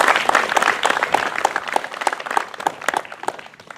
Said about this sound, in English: So I'll ask us again to applaud their efforts.